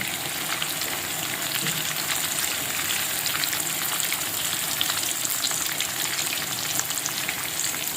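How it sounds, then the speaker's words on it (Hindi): Chapli kababs frying in a pan: a loud, dense, continuous sizzle of hot oil, steady and unbroken throughout with faint crackles, no voices. "ऐसे ही सारे कबाब को हम उलट पलट कर लेते हैं।"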